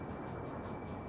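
A train runs in a Roblox train game, a steady low rumbling drone with a faint sustained tone above it, continuous and even through the brief moment, with no talk.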